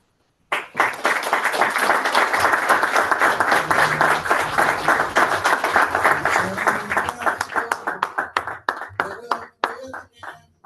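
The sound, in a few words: audience applause at club meeting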